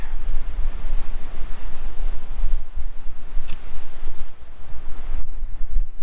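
Strong wind blowing in off Lake Huron, a steady loud roar buffeting the microphone for the whole stretch, with gusty surges and no voices.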